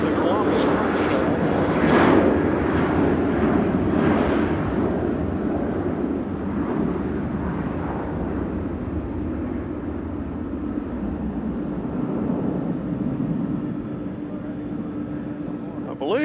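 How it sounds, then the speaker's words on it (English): A FedEx Airbus A300 runs its engine at Nashville International Airport, a steady broadband roar holding throughout with a fairly close, continuous rumble under occasional people talking. "I believe this A300 right in front of us is FedEx. Has got their engine on."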